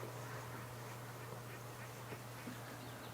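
Ducks quack faintly and irregularly in the distance, soft scattered calls over a steady low electrical hum.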